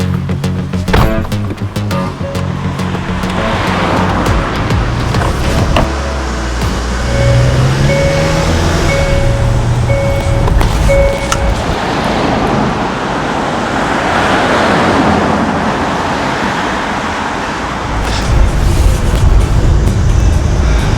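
Subaru Outback driving on a road, a loud continuous rush of tyre and wind noise with a low engine hum throughout, a brief tonal whine midway, no talking.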